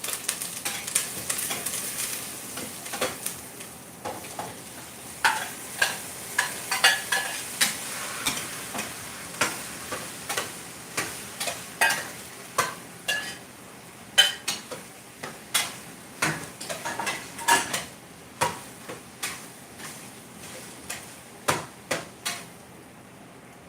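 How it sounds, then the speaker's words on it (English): Onions and garlic, already roasted, being sautéed in a pan for minestrone, with a steady soft sizzle under repeated sharp clinks and scrapes of a utensil stirring against the pan. "So now I'm gonna add because it's roasted already the onions and garlic."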